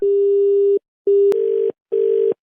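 A telephone tone sounds in three steady pulses with short silent gaps between them, loud and close, after a call is hung up.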